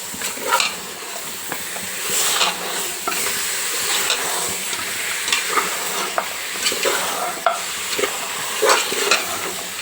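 Spice masala frying in oil for a mutton head curry, a continuous bright sizzle with frequent scraping stirs of a spatula across the pan, close and fairly loud, no voices.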